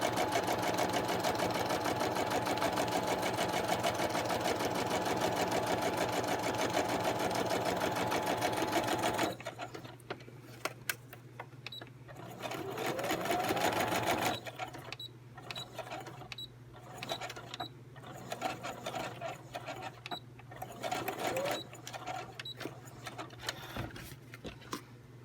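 A vintage sewing machine stitching steadily and loudly for about nine seconds, then running in shorter stop-start bursts with pauses between them.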